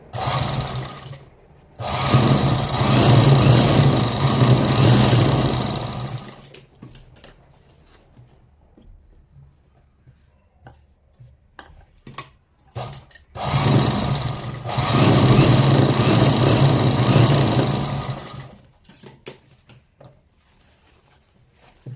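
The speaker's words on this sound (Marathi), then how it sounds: "चला तर मी आता शिलाई मारते" A sewing machine stitches fabric in two loud bursts of about four to five seconds each, with a fast whirring mechanical hum. Quieter pauses with small handling clicks separate the bursts.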